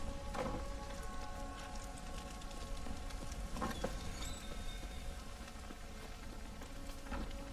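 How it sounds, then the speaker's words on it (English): Steady soft rain in the video game The Witcher 3 pattering on surfaces, with occasional louder drops and faint crackles over a constant low background hiss. "Looks like rain."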